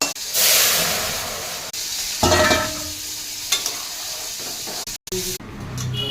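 Loud hissing sizzle as dried red chillies and two bay leaves hit a little hot oil in a wok, settling into steady frying with a few clatters and bumps near the end.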